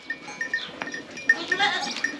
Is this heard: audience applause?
no